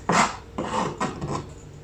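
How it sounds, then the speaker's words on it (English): A knife rasps and scrapes across a cutting board while garlic is minced for teriyaki tofu, three or four rough, close strokes in uneven rhythm, moderately quiet with no talk. "now we're gonna mince the garlic"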